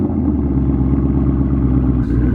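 A twin-turbo 2020 Ford Mustang GT idles close by at a drag strip, a steady, smooth low rumble holding an even level throughout with no talking.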